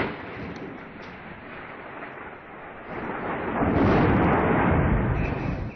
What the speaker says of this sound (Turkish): Hortumun ardından gök gürültülü sağanak yağış başladı.